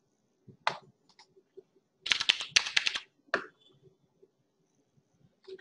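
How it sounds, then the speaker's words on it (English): Keys tapped on a computer keyboard as a company name is entered into a stock quote search, with isolated clicks followed by a quick dense burst of typing and one more keystroke, close and fairly quiet, with no talk. "say we type in any company's name, say Reliance Industries"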